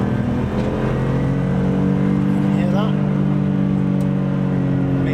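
Heavily modified BMW E46 M3 cruising on a motorway, heard from inside the cabin: a loud, constant low exhaust and engine drone with road roar, continuous throughout, with a faint voice underneath.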